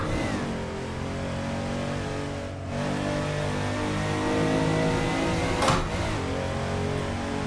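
A Porsche 993 in two-wheel-drive form, driven in the racing game Assetto Corsa, drones loudly and continuously; its engine note climbs with a brief dip near the middle, like a gear change, before revving on.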